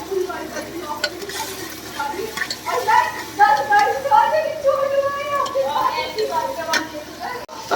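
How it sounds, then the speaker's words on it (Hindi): Onion with ginger garlic paste is stirred and fried in a pan, giving a soft sizzle and scraping stirring sounds, while a voice talks over much of it. "तो इसे अच्छी तरह से चला देंगे। तो ये अच्छी तरह से और भून देंगे।"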